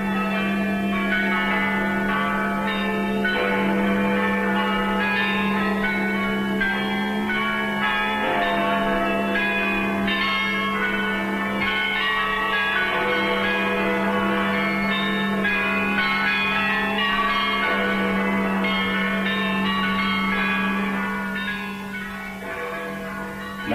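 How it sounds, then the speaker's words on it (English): Church bells peal in thanksgiving and victory across wartime Britain, a loud, continuous ringing with layered overlapping tones and a steady low hum beneath, sustained throughout without pause. "Now the bells rang out a song of thanksgiving,"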